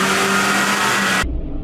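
A vintage car engine held at high revs on a dynamometer gives a loud, sustained, tonal roar, then cuts off abruptly into a brief low rumble.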